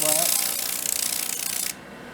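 Bamboo strips for a fly rod are hand-sanded in steady, close rasping strokes that grind on continuously, then cut off abruptly near the end, leaving a quieter background.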